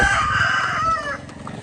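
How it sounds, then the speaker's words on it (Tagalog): White leghorn parent-stock hens used for breeding on a poultry farm, a close, steady run of overlapping clucks and calls through the whole moment, fading slightly toward the end. "So ito naman yung mga parent stock natin na white leghorn mga ka-farmers na ginamit sa breeding."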